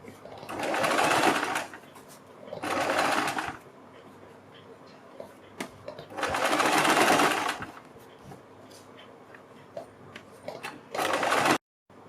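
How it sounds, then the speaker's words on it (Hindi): Electric sewing machine stitching a kurti neckline on fabric, running in four bursts of steady whirring and rapid needle clatter separated by short quiet pauses. "तब इसके ऊपर सिलाई लगानी है।"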